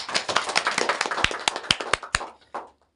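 A classroom gives a student a short burst of applause, a few pairs of hands clapping unevenly for about two and a half seconds, then stopping.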